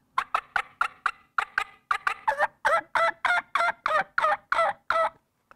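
A turkey hen imitation on a mouth call: a steady rhythmic series of sharp clucks building into louder, longer yelps, close and clear with no talking.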